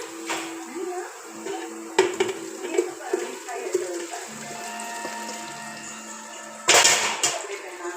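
Pieces of dhokla tipped into a cooking pan, heard as scattered clinks and scrapes of utensil on metal with soft sloshing, building to a sharp louder clatter near the end.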